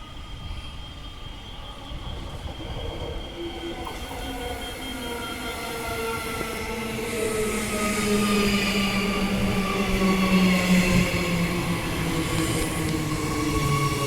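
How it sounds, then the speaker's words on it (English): Fremantle line train pulling into a station in Perth, a steady rumble with squealing wheels and rising whine that grows louder as it nears, with no talk over it. "Fremantle line is arriving."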